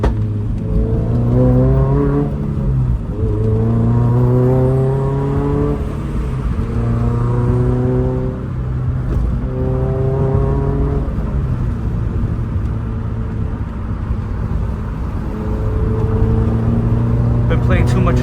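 A Toyota GR86 / Subaru BRZ driven on the road, its engine rising and falling through repeated revving pulls and gear changes from inside the cabin, loud and continuous, with brief crackle near the end.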